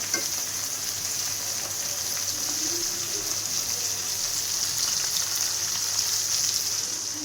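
Fish fry in a hot pan with a constant bright sizzle and crackle, steady and close, with no talking.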